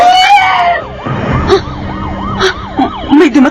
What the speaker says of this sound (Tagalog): May dumating na mobil ng pulis!